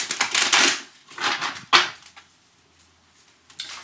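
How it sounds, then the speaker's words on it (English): A deck of tarot cards being shuffled up close, with several quick riffling bursts of papery flutter and slaps followed by quieter handling and a final short burst. "Hold on, I'll shuffle"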